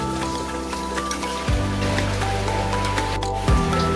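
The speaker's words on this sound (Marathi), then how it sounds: "आता आपल्याला असं व्यवस्थित मिक्स करून घ्यायचं आहे." Chicken being mixed into thick curry masala in a pan on a low flame makes close, wet squelching and gentle sizzling, with a couple of heavier scrapes of the spoon and no speech.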